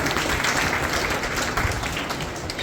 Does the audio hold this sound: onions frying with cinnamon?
no